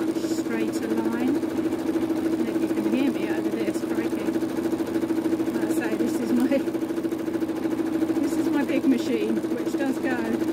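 Sewing machine running at top speed during free motion embroidery, a loud continuous rapid whirring buzz with fine repetitive clatter, steady throughout and close up.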